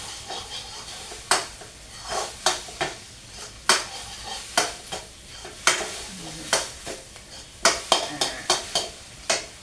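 Eggs being stir-fried in a pan, with steady sizzling broken by repeated sharp scrapes and clanks of a spatula against the pan at an uneven rhythm, close and clear.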